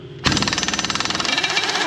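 A new impact wrench fires a sharp, loud burst of rapid hammering pulses for about a second and a half. It is working on the undercarriage of a John Deere 550K bulldozer during a track changeout.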